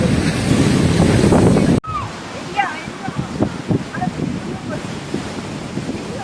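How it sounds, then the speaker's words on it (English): Sea waves roll in at full tide on Mandarmoni beach, washing up close to the feet; a loud rush of wind and surf gives way to a steadier wash of breaking waves with a few faint voices. "it's full tide now. As you can see, the waves are coming just near about our feet"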